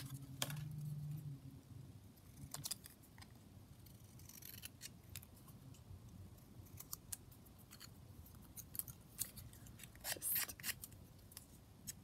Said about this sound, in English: So I'm just going to cut this word down.